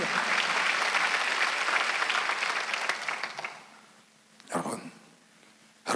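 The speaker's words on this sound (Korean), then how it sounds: "박수 한번 더 있어요." A church congregation at a Korean Sunday worship service applauds loudly, then the clapping fades over a few seconds, with a brief burst of sound afterward.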